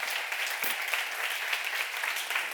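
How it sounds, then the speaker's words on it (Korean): Applause from a church congregation at a Bible seminar on the Gospel of John, a steady dense wash of many hands clapping together, moderately loud and continuous throughout with no voices. "박수로 하세요."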